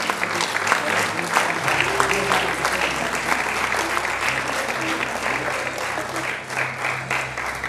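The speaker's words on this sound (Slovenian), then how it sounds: "Še en velik bučen aplavz za učence osnovne šole Podgoro" A crowd gives long, steady, enthusiastic applause to primary school pupils from Podgora at a youth awards event in 2017, filling the room with dense clapping from start to finish.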